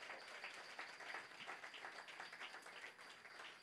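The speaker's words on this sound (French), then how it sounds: "Si vous m'aimez, acclamez très fort." A church congregation applauds steadily, a dense wash of many hands clapping at moderate distance with faint voices mixed in.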